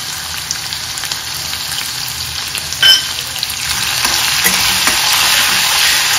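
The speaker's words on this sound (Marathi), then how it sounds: "तर आता अद्रक घालते मी याच्यामध्ये।" Ginger fries in a hot pan for squid masala, producing a loud, steady sizzle with a brief sharp clink partway through as the hiss swells slightly.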